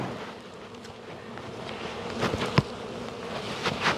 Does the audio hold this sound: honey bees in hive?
yes